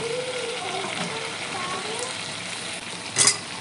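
Fried potatoes and boiled jackfruit sizzle steadily in a pan while cooking with chicken, a continuous close hiss with a brief louder crackle near the end.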